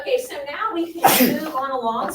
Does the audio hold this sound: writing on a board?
no